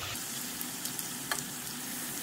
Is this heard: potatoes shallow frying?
yes